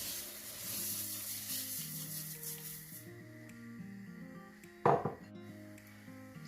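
Rice is poured into a hot, sizzling pot in a steady frying hiss, with one sudden louder rush as the grains hit, all over background music.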